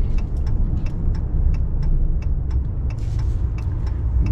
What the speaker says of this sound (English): We have to deal with traffic.